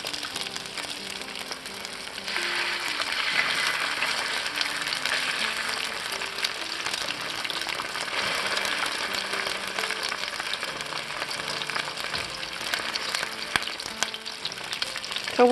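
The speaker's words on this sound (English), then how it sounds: "So we'll let that sizzle" Salmon fillets fry in a hot pan with a continuous, close crackling sizzle that holds steady throughout, with occasional small pops and no talking.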